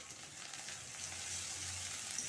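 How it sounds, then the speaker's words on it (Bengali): Chopped onion with whole cumin seeds frying in a pan, giving a faint, steady sizzle with a soft broadband hiss throughout and no voices. "অল্প একটু গোটা জিরে আর একটা কুচনো পেঁয়াজ দিয়ে এবারে পেঁয়াজটা একটু ভাজা ভাজা করে নেব"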